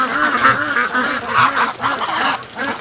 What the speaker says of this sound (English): Yes, Mr. Goose. Look at the size of you.